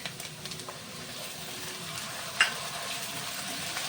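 Ginger garlic paste frying with chopped onion in a pan for a chicken dish, a soft steady sizzle with a few light stirring taps, close but quiet, no talking.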